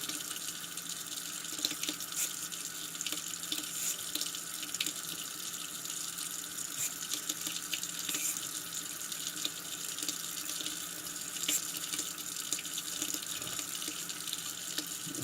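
Tap water runs steadily into a sink while parts of a Remington 1858 revolver cylinder are rinsed, a continuous faint hiss and splash with small clinks from handling the pieces.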